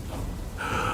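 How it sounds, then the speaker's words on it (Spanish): A frightened dwarf's panting gasp, a short sharp intake of breath that is close and fairly quiet, followed by a breathy release. "El enano los miraba con terror, jadeando por el miedo."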